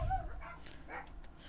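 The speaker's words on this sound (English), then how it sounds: "Sorry about the dogs barking." Dogs bark and yip at night, a couple of short bursts at a distance, low and fairly faint over a steady low rumble, with no talk.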